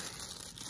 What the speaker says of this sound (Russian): Тут пакетик лежит. Давайте его сначала откроем.